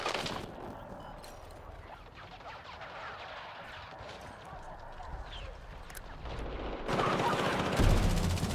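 Rapid gunfire and shotgun blasts in the video game Battlefield 6, steady bursts layered over continuous battle noise, with a louder stretch of firing near the end.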